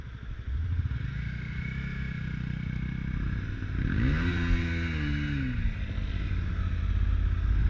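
A motorcycle on a road test for a licence steady engine drone while making a turn, the pitch rising and falling as the rider nearly drops the bike, close and continuous with road noise.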